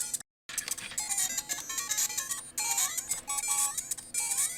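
Chiptune game music from a Makerfabs ESPlay Micro V2 retro emulation handheld, playing a PAL-version game through its small speaker: bright, beepy square-wave melody lines over a steady busy texture, moderately loud after a brief dropout at the start, no talk.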